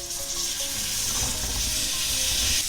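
Cubed pumpkin hits hot fried spice masala in a pan for a sweet-sour halwai-style kaddu sabzi, giving a loud, continuous sizzle and hiss with occasional stirring scrapes.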